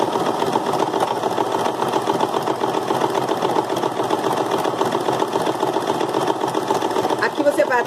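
A home sewing machine stitches the square end of a buttonhole, its needle chattering in a rapid, steady run that holds loud and close throughout without a break.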